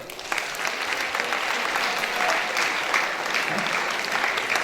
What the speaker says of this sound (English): So I request you people to clap for yourself.